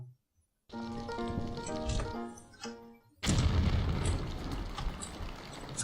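An explosion in a Tomb Raider custom level of The Iron Cross 2: after a brief tonal passage, a sudden broad blast erupts and rumbles on loudly to the end.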